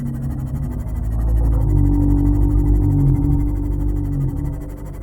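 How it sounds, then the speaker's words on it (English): A low groaning growl from an underwater monster in Subnautica rolls as a deep, loud, sustained rumble that swells and fades over a few seconds, with no voices. "You hear that low groaning growl and suddenly you're spinning in circles"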